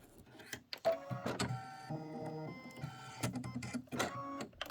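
A Kimberbell embroidery machine stitches the placement line for quilt batting, a steady mechanical hum with rhythmic whirring and clicking bursts that pause briefly and then resume, close and clear, with no talking.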